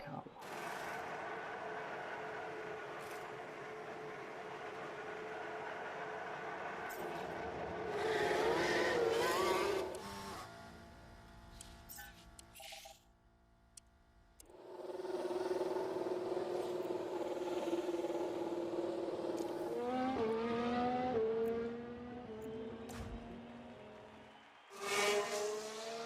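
An F1 car driving on track in the F1 Manager game, with rising and falling engine whine and tonal gear-shift sweeps, a loud pass near the middle and another at the end, with talk over parts of it.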